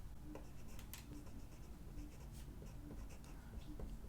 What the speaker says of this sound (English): We're just going to write